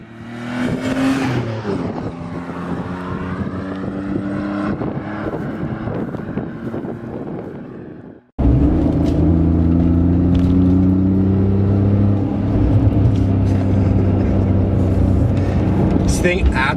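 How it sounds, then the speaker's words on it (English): A BMW E46 325i exhaust with the muffler removed, droning and roaring steadily, then revving harder and louder after a brief cut, with wind buffeting the microphone. "You wanted the car louder? Chop the muffler off. Why not? Actually sounds pretty good."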